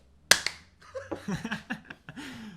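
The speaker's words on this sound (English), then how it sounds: "Did you clap again?" A single sharp hand clap rings out near the start, followed by a quieter slap, then people talk.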